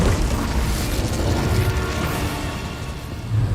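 A fire spell cast in Hogwarts Legacy, heard as a steady, loud roaring whoosh of flame with booming low rumble that holds for several seconds without a break.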